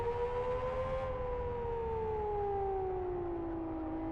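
Car in the Live For Speed racing game on treaded tyres, with heavy reverb: a steady whining engine tone gliding slowly downward, sustained and echoing.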